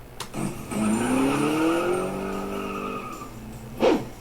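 A Ford Mustang convertible accelerates with a rising engine whine and squealing tires, then settles, close and loud, with no one speaking.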